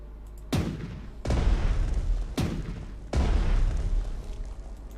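A secondary gun firing in the strategy game Strategic Mind: Blitzkrieg during the invasion of Norway, with four heavy booming shots spaced about a second apart, each one loud with a rumbling decay.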